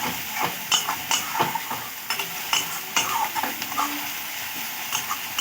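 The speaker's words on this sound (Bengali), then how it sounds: "রসুনও আর পেঁয়াজও একটু নাড়াচাড়া করব" Onion and garlic paste stirred as they fry in a pan, a steady close sizzle broken by repeated scraping strokes of a spoon, with no talking.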